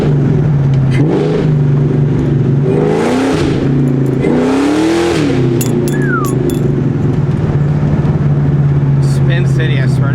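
A Ford Mustang GT fitted with BBK long tube headers, an off-road H-pipe and Borla Atak exhaust idles loudly up close with a deep steady rumble, blipped through two rising revs that swell and fall back, while voices talk over it.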